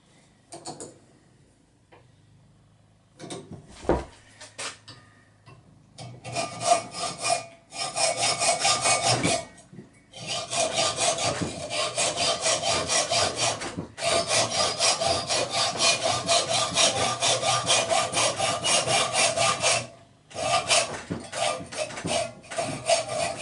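Hand saw cutting through wood for the hull of a model pond sailboat, a steady rasping back-and-forth in long continuous runs with brief pauses between bursts, close and loud.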